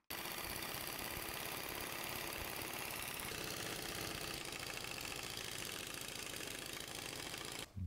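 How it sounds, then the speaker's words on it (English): An old Snap-on air impact wrench running on a 17-gallon compressor hammers out a dense, rapid rattling for about seven seconds, then stops abruptly. "25-year-old snap-on on a 17-gallon compressor"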